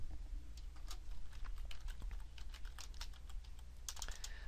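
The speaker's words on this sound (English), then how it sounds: "I'm typing gradient filled text." Quiet keyboard typing, a steady patter of light key clicks at an uneven pace while entering text in Illustrator, close by with faint background hum.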